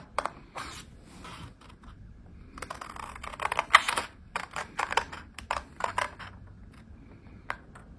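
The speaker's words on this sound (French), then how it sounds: "Donc je découpe mes lignes droites, mes lignes courbes." Scissors snipping card stock along straight and curved lines while making a pop-up Christmas card, a run of close, crisp cuts in quick irregular bursts, with short pauses between strokes and no voices.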